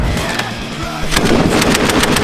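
An MG machine gun firing rapid bursts during combat on the Bakhmut front, loud and close, with a dense stream of rounds that intensifies after about a second.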